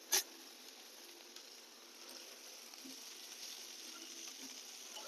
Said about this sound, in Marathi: आणि आता आपण टाकूया बटाटा।